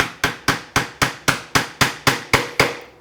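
A woodworking chisel is tapped in a steady, even rhythm, about eleven crisp, close strikes in a row, while cleaning out a half-blind dovetail socket. No voices are heard.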